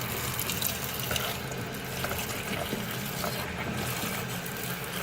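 Tap water runs steadily over ackee fruit being rinsed in a sink, a continuous close, even rush of flow with no talking.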